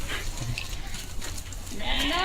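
A goat bleats on a farm near the end, a short wavering call over outdoor background noise, with speech-like sounds and other animal noises earlier.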